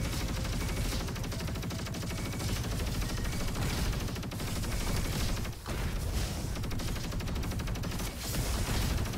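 Rapid, continuous submachine-gun fire from the Quasar SMG in the shooter Roboquest, loud and sustained bursts with only brief pauses, no talking.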